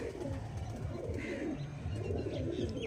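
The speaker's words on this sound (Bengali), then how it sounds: "এই হচ্ছে পায়রা" Pigeons coo in soft, low, repeated throaty calls close by, rolling continuously over a quiet background without speech.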